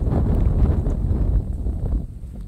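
Cold night wind gusting hard against the microphone, a loud low rumbling roar that eases slightly toward the end.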